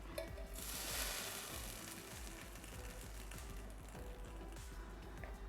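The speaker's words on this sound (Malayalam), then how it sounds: "കടുകും കറിവേപ്പിലയും മുളകും ഒക്കെ മൂത്തിട്ടുണ്ട്. ഇനി നമുക്കിതിലേക്ക് ഒഴിച്ചു കൊടുക്കാം." Hot tempering of mustard seeds, curry leaves and chillies poured into coconut chutney gives a broad, steady close sizzle lasting throughout, with faint crackles and pops layered over a low background hum.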